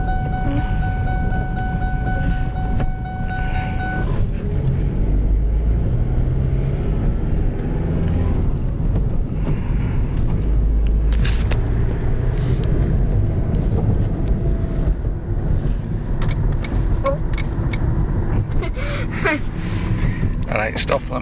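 Ford Mondeo car driven slowly by a ten-year-old boy in a field, with a steady low engine and road rumble running throughout and occasional voices nearby.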